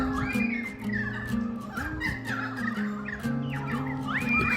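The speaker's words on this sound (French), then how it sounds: "le bruit des oiseaux" Several birds call loudly and close by, with warbling, gobbling cries that overlap one another continuously.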